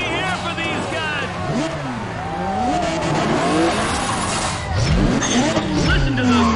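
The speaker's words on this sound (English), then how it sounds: "Listen to those engines." Several race car engines in Need for Speed ProStreet rev and roar together, pitches sweeping up and down in overlapping waves with tire squeal and a loud surge near the end, while a voice talks over them.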